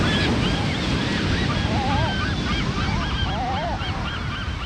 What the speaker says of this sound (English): The sounds of the ocean. The sounds of the birds.